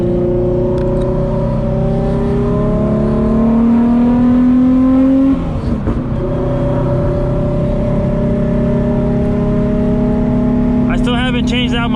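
A Nissan 350Z engine drones steadily from inside the car on a test drive, revs rising and easing with a brief dip midway and a shift near the end, fairly loud throughout.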